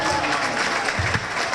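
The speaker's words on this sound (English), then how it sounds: "Give it a round of applause" A crowd at a legislative breakfast for a Carnival parade breaks into applause, a dense, loud wash of clapping with a few brief low voices or cheers mixed in.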